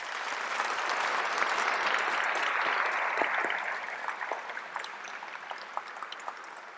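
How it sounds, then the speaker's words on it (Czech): Steady audience applause at a post-concert talk with classical musicians, loud and dense at first, then thinning into scattered claps. "tahle odpověď zaslouží váš potlesk"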